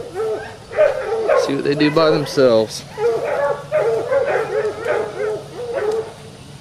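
Hound puppies yip, whimper and bark in short, uneven bursts close by, with someone talking over them now and then.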